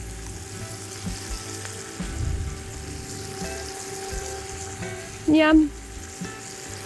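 Browned lamb cutlets and vegetables for an Irish lamb stew sizzle steadily in a pot, a soft continuous fry heard close, with a brief spoken word near the end.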